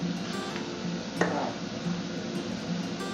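A spoon stirs beef soup seasoned with fish sauce and sinigang tamarind mix in a pot, giving a soft, steady liquid swirl with one brief sharper clink of the utensil against the pot.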